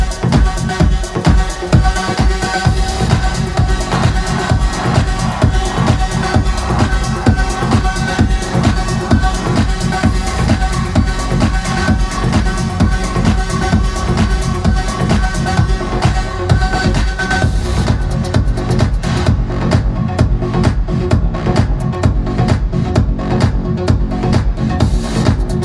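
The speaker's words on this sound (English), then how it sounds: "What you're hearing is this track and this track mixed together." Two electronic dance tracks beat-matched and blended by a DJ, their bass lines sitting in the same key; a loud, dense mix with a steady driving pulse runs continuously throughout, with no talking.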